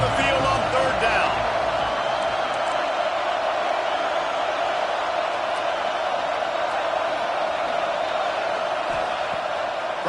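Home crowd at a Penn State vs Colorado college football game roaring loudly and steadily on a third down, a dense continuous stadium wall of noise throughout.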